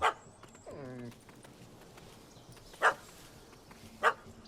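A dog in The Witcher 3 barks at a cat up a tree: a few sharp, separated barks with a short whimpering whine between them, moderately near over quiet outdoor ambience.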